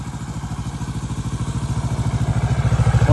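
A motorcycle engine runs steadily nearby with a loud, even, low throbbing pulse that builds slightly in volume over a few seconds.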